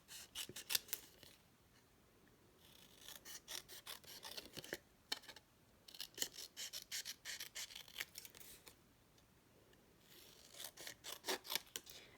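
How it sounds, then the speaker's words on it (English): Scissors snip out simple paper kite shapes by hand for a stamped card, a close series of quick crisp cuts in bursts with short pauses between, no one talking. "it's fairly easy to cut the kites out"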